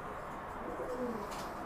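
A pigeon in a loft with growing squabs gives a soft, low coo over a quiet room-tone background, close but gentle and without talk.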